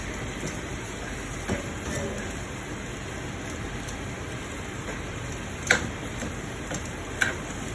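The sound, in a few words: whisking sauce in a pan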